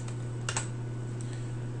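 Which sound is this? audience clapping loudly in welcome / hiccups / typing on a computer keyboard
typing on a computer keyboard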